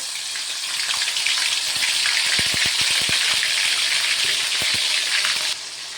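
Ginger garlic paste hits hot oil with a steady, loud hiss and sizzle, crackles and pops scattered through it, and the frying fades a little toward the end.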